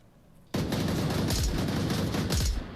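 Weapon gunfire in the VR game Onward on the snowy Snowpeak map: after a short quiet lead-in, sustained loud automatic fire with sharp close bursts.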